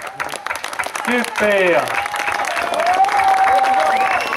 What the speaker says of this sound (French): alors là, on peut l'applaudir.